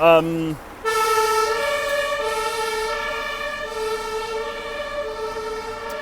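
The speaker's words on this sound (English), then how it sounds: "It's that fire engine." A fire engine siren wails steadily and loudly, holding a long, pulsing tone after a brief horn blast at the start.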